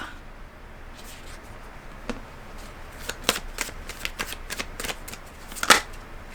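Oracle cards are shuffled and pulled from the deck in a quiet room: a soft, steady riffling runs throughout, broken by sharper flicks and slaps as single cards snap free. The loudest snap comes near the end, and no one speaks.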